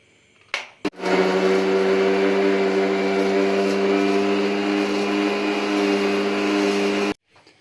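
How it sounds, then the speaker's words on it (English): A grinder runs steadily for about six seconds, pulverizing dry Oreo biscuits into powder, with a loud, even motor whine and harmonic hum that starts and stops abruptly. "You don't have to add anything, just grind it dry."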